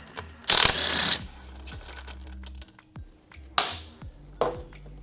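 A ratchet and socket working on a 2022+ Honda Grom axle nut, giving sharp bursts of metallic clicking and clattering, close and loud, separated by quieter gaps and a few single knocks.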